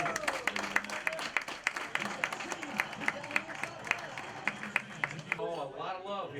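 A crowd at an LSU football event applauds their head coach with steady, dense clapping, while a voice talks over it.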